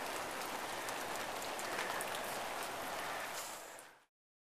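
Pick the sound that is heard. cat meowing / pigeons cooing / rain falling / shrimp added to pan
rain falling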